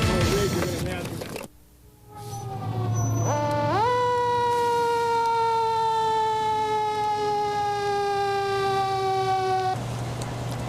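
A fire truck siren wails loudly after a brief dip. Its tone rises sharply, then holds a long, steady, slowly falling note, sounding close and dominating the scene.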